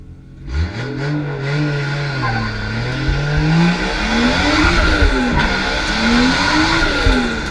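A race car on low-grip test tires sets off on a single lap around a track. Its close, loud engine revs rise and fall continuously through the gears, with a hint of tire squeal.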